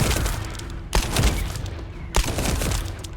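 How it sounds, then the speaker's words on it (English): Shotgun blasts in the video game Max Payne: two loud, booming shots about a second apart, each with a sharp crack, over a continuous dense wash of game ambience and noise. "This is a shotgun."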